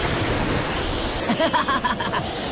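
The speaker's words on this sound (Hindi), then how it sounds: "ये तो बड़ा ही जोरदार तूफान है।" Roaring storm at sea in the Naruto anime near a ghost ship, a steady dense rush of wind and crashing waves with a brief flurry of higher splashes and creaks midway, loud and continuous with no talk.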